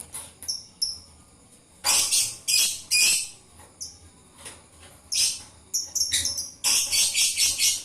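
A lovebird gives bursts of sharp, high chirps and chattering calls, close and clear, with short pauses between the louder flurries.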